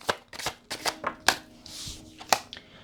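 Tarot cards are drawn and handled from a deck: a run of crisp, close card flicks and slaps in quick irregular succession, with a brief soft swish between them.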